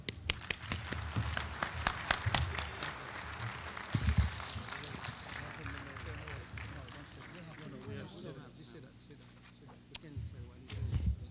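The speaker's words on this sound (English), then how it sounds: "Please, let's applaud with him." Audience applause at a 1993 Haitian community gala, moderate clapping from a crowd heard fairly faintly with a speaker's voice around it.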